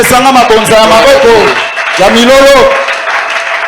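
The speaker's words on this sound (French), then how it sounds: "Donne-moi les offrandes des acclamations." Church congregation at a pastor's service raising loud sustained acclamations, many voices shouting and ululating together in two surging waves with a brief dip between, applause faint beneath.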